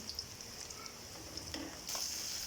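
Large sliced onions frying in mustard oil, a steady quiet sizzle with soft stirring scrapes, swelling louder near the end.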